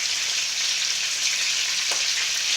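Headless salted dried fish fries in a pan, a steady bright crackling sizzle with a few sharper pops.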